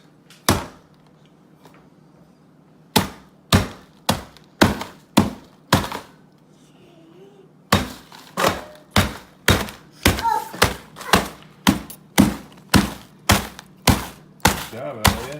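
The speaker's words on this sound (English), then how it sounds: "We're going to have Elliot crush the biscuits." Digestive biscuits being crushed for a no-bake cheesecake crust, a series of sharp dull thumps at first sparse and then in a fast steady rhythm, fairly close and loud.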